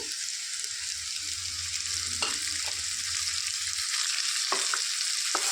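Snake gourd pieces sizzle steadily in hot tempering oil in a pan, a continuous bright crackle with a few sharper clicks from the spatula, alone and fairly close.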